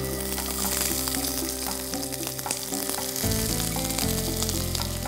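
Onions hitting hot light olive oil in a pan for roasted red pepper tomato soup, a loud, crackling sizzle throughout, with a low steady hum underneath that shifts partway through.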